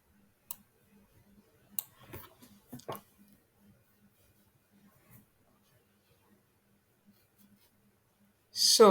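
Computer mouse clicks in a quiet room, a few sparse soft clicks spread over several seconds, faint and close, with a brief louder burst near the end.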